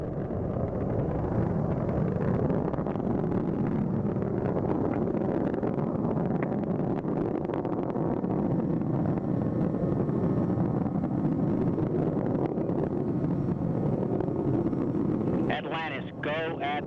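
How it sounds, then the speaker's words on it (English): Space Shuttle Atlantis's main engines roar during its final launch, a continuous loud, rumbling broadband roar that holds steady throughout, with a brief tonal chirp near the end. "Engines now revving up"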